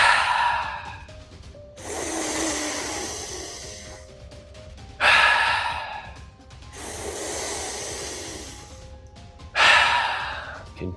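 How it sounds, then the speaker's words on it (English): Deep guided breathing through the mouth: slow, loud inhales and relaxed exhales in an even wave-like rhythm, several full breath cycles close to the microphone with no talking. "Let the breath go through your mouth. Good, deeply in. And relaxed on the way out."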